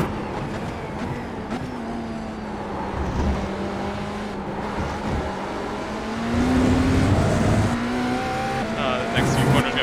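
A race car in the iRacing sim, fresh out of the pits on cold tires, drones steadily through its gears with rising and falling engine pitch, occasional shifts and tire scrub, under intermittent commentary.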